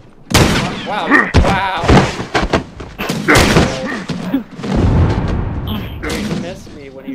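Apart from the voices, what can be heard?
shotgun fire in The Last of Us multiplayer, video game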